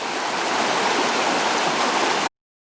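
Water in a stream flows and rushes steadily outdoors, a loud, even broadband hiss that runs unbroken for about two seconds before cutting off abruptly.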